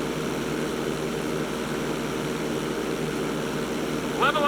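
Propeller plane in GTA 5 flying a knife-edge manoeuvre, its steady engine drone and airscrew hum continuous and fairly loud throughout, with a brief higher sweep near the end.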